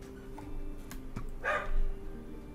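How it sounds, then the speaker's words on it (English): A dog gives a single short bark at mid-distance over a low, steady background hum, with no talk over it. "My dog is barking."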